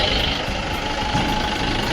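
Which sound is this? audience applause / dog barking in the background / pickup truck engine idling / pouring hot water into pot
pickup truck engine idling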